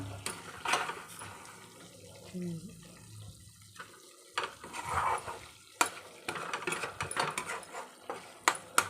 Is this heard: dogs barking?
no